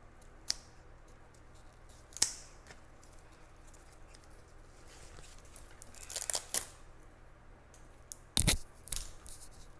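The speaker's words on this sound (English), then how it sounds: "Maybe I'll just cut him until I meet where this second stem comes up. So I'll cut here." Scissors snip through the stem of an indoor plant being cut for propagation, giving a few sharp, close clicks spread out over quiet background rustling.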